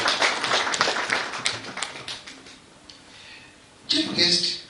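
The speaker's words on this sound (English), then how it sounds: "May I invite all of you to give a hand clap to the team" Hand clapping from an audience at a university launch ripples out for a project team, dense at first and then thinning to scattered claps before a fresh burst near the end.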